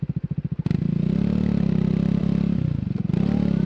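A 2024 Triumph Speed 400 motorcycle is ridden through town, opening with a rapid pulsing idle-like throb, then revving up into a loud sustained engine drone that wavers and dips briefly before picking up again.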